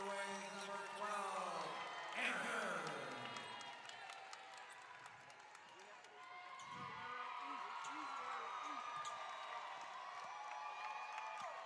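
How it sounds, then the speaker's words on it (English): A basketball crowd at an Upshot League game between the Greensboro Groove and Jacksonville Waves swells and cheers as the coach waves for noise. Steady roar with whoops, claps and ball bounces sits under a commentator's continuous play-by-play. "Coach Boji in the bench waving for people to get loud. And the crowd is responding."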